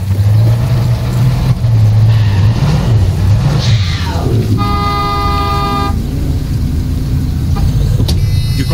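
A car engine in the Far Cry 6 video game hums steadily with a low, constant drone and rises briefly as it revs, mixed with a horn-like tonal toot in the middle of the clip, loud and continuous throughout.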